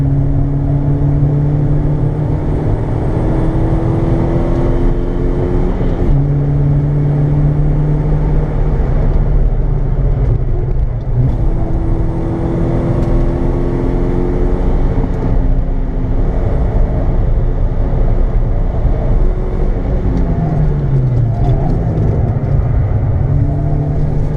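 Minibike engine on a racetrack in Wigan, held at steady drone with rising and falling pitch through one long corner, loud and close throughout with no talking.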